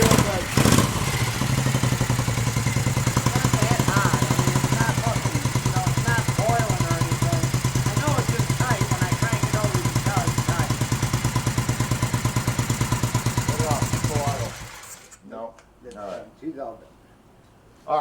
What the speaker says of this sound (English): she's running tight right now, so we heat it up. We're gonna, this is the first fire up